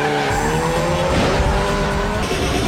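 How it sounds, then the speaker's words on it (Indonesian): Cars in a street race with tires skidding and squealing, a loud continuous screech over revving engines, close and sustained with no voices. "Ketika Dom sedang adu sprint dengan polisi, tiba-tiba Brian muncul dan memberi tumpangan."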